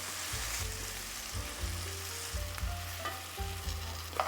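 Shrimp sizzling in a hot pan, a steady close crackling hiss with small pops and a low background hum, continuous and fairly soft.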